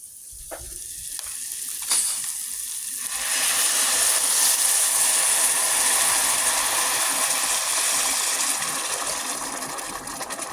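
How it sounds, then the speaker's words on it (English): Broth is poured into a hot pan of toasting rice, a loud steady sizzle swelling up after a few seconds of quieter crackling, close and alone without talk. "And about time to pour the broth in."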